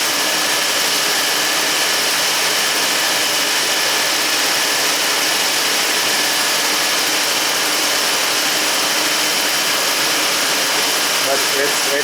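A car engine idles loudly and steadily with a random misfire, a constant rough mechanical drone that holds without pause, and a voice is heard over it.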